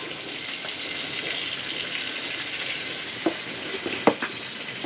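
Pieces of rui fish fry lightly in oil in a pan, a steady close sizzle with a couple of louder spits and pops near the end.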